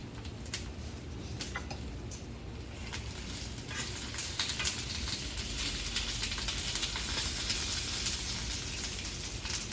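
Small sweet tomatoes sizzling on a hot grill beside vegetables for a Mediterranean salad, a steady, moderately quiet crackle and hiss with scattered pops, no voices.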